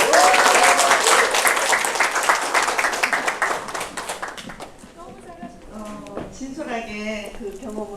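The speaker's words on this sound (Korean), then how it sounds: "멋지게 사업 설명을 해주신 김동희 CEO님께 박수 드리겠습니다" Audience applause at a sales seminar, dense clapping from a seated crowd, loud at first and thinning out after about four seconds as scattered claps and voices take over.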